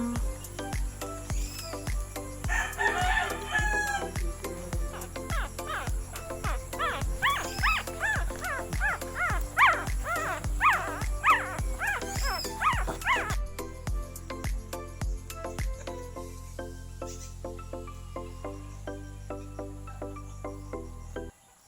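Small shih tzu mother dog near her puppies gives a run of quick, close yips and barks in a steady rhythm for about fifteen seconds, then quieter shuffling and faint squeaks, with no talk.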